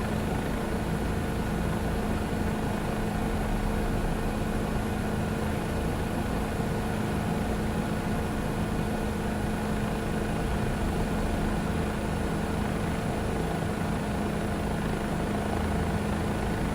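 Steady, loud whine and rotor drone of a Bell JetRanger helicopter in the FS2024 flight simulator, continuous and unchanging while it slows toward a hover over London, with no speech.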